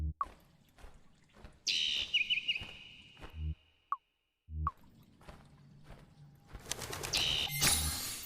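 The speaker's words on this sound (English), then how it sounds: "A cheerful little bird is sitting here singing." A small bird in the remade Colossal Cave adventure game sings short chirping phrases and flaps its wings, with soft clicks and thumps between calls and a brief silent gap midway.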